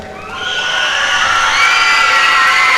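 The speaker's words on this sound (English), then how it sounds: "this group deserves a special round of just applause" A school fine arts audience roars for student French horn players, shrill high cheers and shouts that build steadily into a loud, sustained crowd noise.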